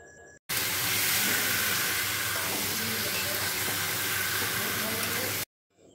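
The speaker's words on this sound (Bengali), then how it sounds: "কষানোর পর এবার চিকেনটা দিয়ে দেব।" Chicken pieces hit hot, well-cooked spiced masala in a pan on a gas flame, setting off a loud, steady sizzle with hissing steam that runs continuously for about five seconds, then cuts off.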